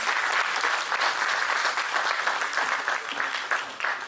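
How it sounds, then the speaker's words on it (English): Dense, steady applause from an audience at a university law faculty valedictory ceremony, greeting the chief guest; the clapping fills the whole stretch at an even, sustained level with no voices on top. "Please give a huge round of applause for our chief guest"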